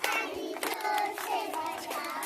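Children at an anganwadi centre clap their hands loudly in a quick, repeated rhythm during an action song, with sung voices over the claps.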